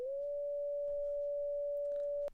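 A steady pure synthesiser tone generated in JavaScript with reverb switched off, holding one pitch for just over two seconds and then cutting off abruptly with no lingering tail.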